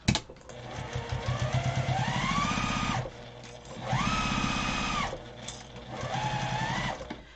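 A sewing machine stitches a fabric briefcase lining in three bursts of steady whirring, each pausing briefly between runs, close and clear with no talking.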